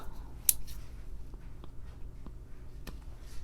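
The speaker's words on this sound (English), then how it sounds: "Okay, Tom, you've been promising to cut this." Pruning shears snip through tree roots with one sharp, close cut, followed by a few faint clicks and rustles over a low steady background hum.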